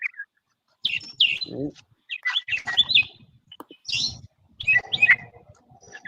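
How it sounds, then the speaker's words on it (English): Several birds chirping and tweeting in short bursts of high, bright calls, near and fairly loud, with a lower warble early on and gaps of silence between phrases. "do you have those birds mic'd up?"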